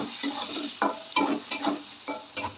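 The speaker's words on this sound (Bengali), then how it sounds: "মশলাগুলো কিন্তু অনেকটাই কষানো হয়ে গেছে" Spice paste and eggplant sauté in a pan with a soft sizzle under several distinct stirring and scraping strokes, close and fairly quiet.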